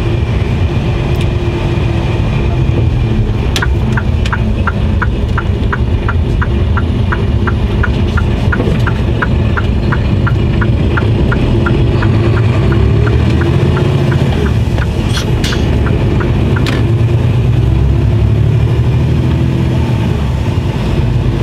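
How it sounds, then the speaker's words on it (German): Car accelerating steadily on the road, a loud continuous engine and road roar heard from inside the vehicle, with a rapid regular ticking pulsing through the middle and no talk. "mal ein bisschen Gas geben jetzt hier"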